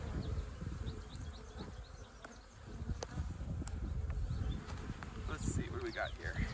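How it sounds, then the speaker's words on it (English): Honey bees swarm in an opened hive, a dense, steady buzzing drone heard up close with individual bees zipping past the microphone now and then. "This is just stacked, just bees everywhere."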